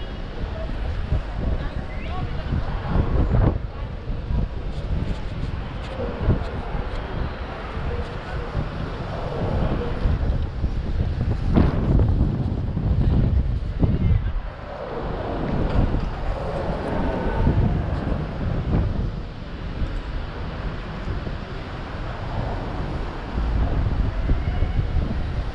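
Strong wind buffets a microphone at night in Durban city, a steady loud rumbling roar that surges and eases throughout, with faint city sounds beneath.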